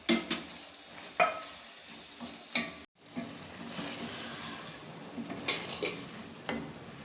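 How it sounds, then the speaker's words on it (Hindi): Onions browned light in hot oil for a tempering in a lauki and chana dal recipe, sizzling steadily while a spoon scrapes and stirs in intermittent knocks, close and moderately loud. "अब हम प्याज का तड़का लगा लेंगे।"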